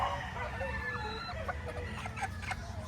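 Gamefowl chickens in a breeding setup, Kanawayon, Boston Allen Roundhead and Grey types with a hen sitting on eggs, cluck softly and intermittently amid a busy, low outdoor background.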